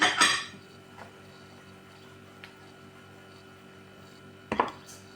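A utensil clinks against a dish while spiced potatoes are stirred, a sharp metallic scrape and clatter at the start, a few faint taps, then another clink near the end over quiet background hum.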